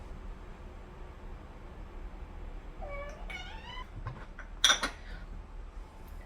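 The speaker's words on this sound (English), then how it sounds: "There's cat chaos happening all around me right now" A house cat lets out a clear, rising meow followed by a second shorter cry, close and fairly loud, then a sharp clatter like a cup or dish bumping in a quiet kitchen room.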